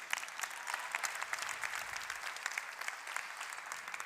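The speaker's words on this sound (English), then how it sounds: "Give yourselves a big round of applause." An audience at a time-management masterclass claps continuously, a dense, even patter of many hands at moderate distance lasting throughout with no voices.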